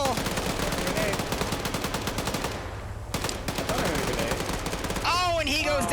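Rapid bursts of machine gun fire in an online shooter game, loud and continuous over about six seconds, with game sound effects and a brief whooshing sweep near the end.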